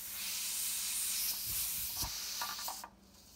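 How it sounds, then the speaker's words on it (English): A steady, close hiss of steam escaping from a leaking pressure canner with a few soft clicks and rattles, cutting off abruptly near the end. "let me show you how to recognize when you are losing steam"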